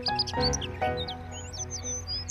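Bright, quick sparrow chirps and tweets, several small birds calling in overlapping bursts against a soft, steady background, with denser chirping at the start.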